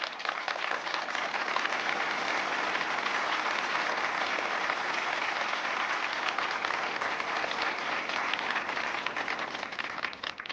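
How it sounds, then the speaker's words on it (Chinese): A group of hospital staff gathered at a meeting breaks into applause, a dense, even wash of many hands clapping that holds steady for about ten seconds. "鼓掌。"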